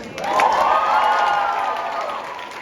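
A crowd at a music competition grand final cheers loudly and steadily for the sponsors, with whoops and shouts and some clapping, sustained for the whole stretch before easing slightly.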